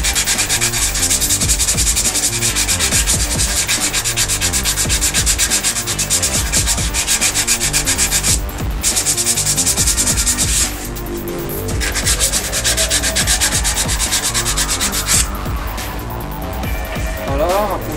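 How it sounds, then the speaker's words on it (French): A wooden clover-shaped tray being sanded on a lathe: steady, loud, close rubbing and scratching that runs the whole time with a rapid rhythmic pulse and brief dips in intensity. "Un petit coup de ponçage."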